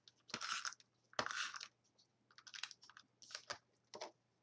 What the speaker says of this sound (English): we'll take a piece of regular cardstock and use our tape runner again